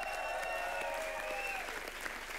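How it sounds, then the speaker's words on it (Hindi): A studio audience on an Indian comedy television show gives loud, sustained applause for a cast, dense and steady throughout with tonal music or cheering running along beneath. "एक बार जोरदार तालियां हो जाए"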